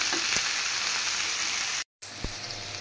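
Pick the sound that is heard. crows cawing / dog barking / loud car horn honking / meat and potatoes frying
meat and potatoes frying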